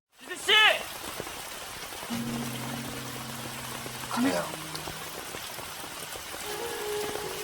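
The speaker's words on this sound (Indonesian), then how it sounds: "hujan pun turun dengan deras" Heavy rain pours steadily throughout as a dense, even wash of noise, with a brief chirping sound near the start and low tonal music-like hums underneath.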